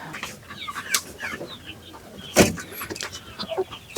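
Hens clucking among the hatching nests of a small-scale poultry farm, scattered soft clucks and calls with one sharper squawk, close by over a busy background of birds and faint rustling.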